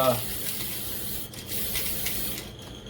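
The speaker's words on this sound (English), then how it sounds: "by spray painting the inside kind of works like clear coat on a car" Spray paint sprayed onto the inside of a part on a 1971 Pontiac custom paint job, a steady broad hiss that holds almost unbroken, with short dips near the middle and end.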